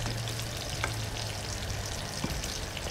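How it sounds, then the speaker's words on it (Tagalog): Chicken feet simmering in a pot with brown sugar and bay leaves are stirred, giving a steady sizzling, bubbling wash with a couple of soft utensil knocks against the pot. "Tapos, halo-haloin lang natin siya at tatakpan."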